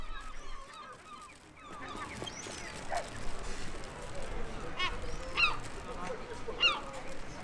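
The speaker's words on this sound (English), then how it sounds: "We often hear the herring gulls before we see them, and their calls are associated with the seaside." Herring gulls call at the seaside in Cornwall, several loud, harsh squawks ringing out one after another over a steady background of wind or surf.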